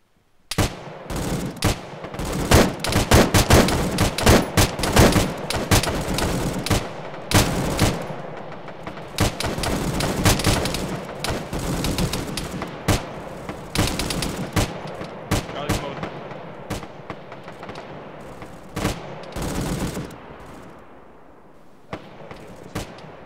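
Dense gunfire rings out in an Arma military-sim battle with a ShackTac squad. Rapid automatic bursts and single shots crack repeatedly for about twenty seconds before thinning out, with some voices faintly underneath.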